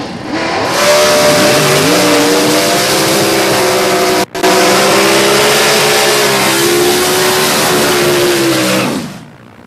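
The Rick Varner Dirtman gasser race car, with Todd Hartel power, roars loudly at a Southeast Gassers drag race in London, Kentucky, its engine note climbing steadily through a long pass with a brief cut midway before fading.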